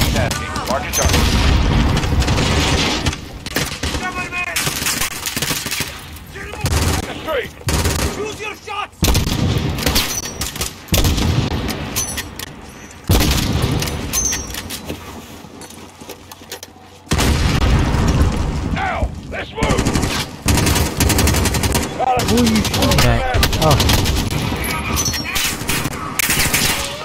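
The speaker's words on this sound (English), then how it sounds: "Where are those shots coming from?" Sustained gunfire and booming explosions from a Call of Duty Modern Warfare campaign battle, dense bursts of automatic fire and blasts continuing almost without pause, loud and close, with brief lulls and occasional voices mixed in.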